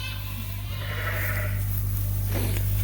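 Dorset sheep on a farm during lambing season bleat in a wavering cry over a loud steady low hum, the animal calls rising mid-clip and again near the end, fairly close.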